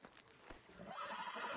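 A horse whinnies in Red Dead Redemption 2, a short, faint neigh rising over soft hoofbeats, fairly close and heard alone without talk.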